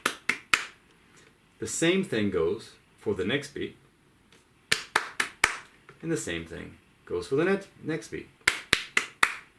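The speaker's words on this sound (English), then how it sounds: "So if I clap that, combining that into one rhythm," Sharp, close hand claps tap out a combined left- and right-hand piano rhythm in short groups, alternating with someone speaking between the bursts.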